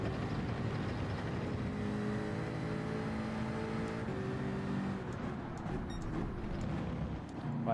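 Ford Mustang race car engine in Gran Turismo 7, a steady droning roar blended with other racing cars, the pitch sliding as engines rev and pass, continuous and fairly loud with no talk.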